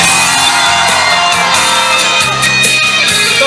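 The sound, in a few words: concert crowd screaming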